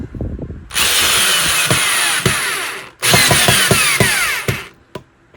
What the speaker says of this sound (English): overuse a power drill like this because it'll break them screw heads off